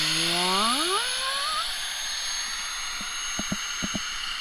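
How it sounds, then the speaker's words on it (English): A Flextail Gear tiny electric pump inflating sleeping air mattresses inside a tent, its motor whine rising in pitch over the first seconds, then holding a steady high drone with a few soft knocks near the end. "We use the little Flextel gear tiny pump here to fill up the mattresses."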